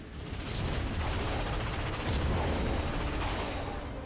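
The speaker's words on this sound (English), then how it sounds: "When the cannon charges, open fire." A defense cannon in the Ratchet and Clank PS4 game fires in heavy booming bursts amid a dense roar of battle, loud and continuous with two stronger blasts.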